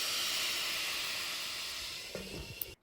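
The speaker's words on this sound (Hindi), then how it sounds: "कलौंजी डालकर तड़का लगा।" Nigella seeds sizzle in hot mustard oil in an iron kadhai, a steady loud hiss that slowly fades, with a few faint clinks near the end.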